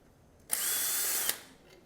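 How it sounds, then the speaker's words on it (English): A handheld electric screwdriver backs out a bolt from a panel on a 2020 Kawasaki Z900 during an air filter change: one steady, close, high whirring run of about a second that starts and stops abruptly, with nothing else around it. "I'm going to use my handy electric screwdriver to take the bolts out faster."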